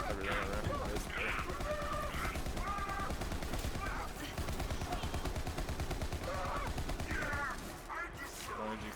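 Rapid gunfire from Moze's weapons in the shooter game Borderlands 3, a dense, continuous burst of shots with explosive crashes, loud and sustained throughout without pause.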